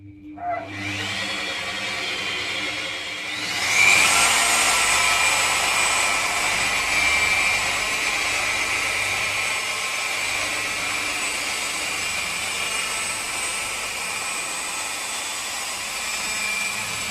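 A budget dual-action machine polisher spins up on a car body panel and then runs with a steady high-pitched whine and motor hum, held at an even, loud level without a break.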